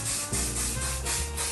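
Schwarzkopf Silhouette hairspray hisses in a steady, broad spray onto a styled men's haircut, close and continuous for about a second and a half with slight pulses.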